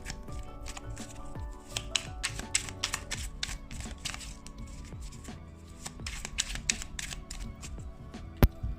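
Rapid riffling and fluttering of a tarot card deck being shuffled, repeated bursts of crisp papery clicks in steady rhythm, close up with no voices.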